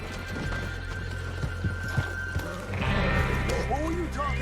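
Hooves clip-clop and a horse neighs in Red Dead Redemption 2, the whinny rising near the end over game music and ambient sound, with people talking throughout.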